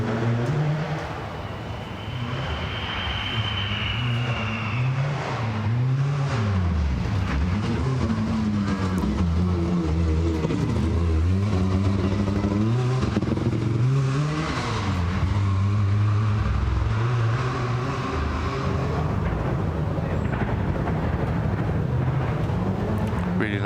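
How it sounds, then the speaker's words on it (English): A big Audi Quattro rally car leaves the start ramp of a forest rally stage, its engine revving hard through rising and falling gear changes, loud and close at first and then fading into the distance, with a commentator talking over it. "Peter van der Putten on the start ramp in Big Audi Quattro with Yannick Pors"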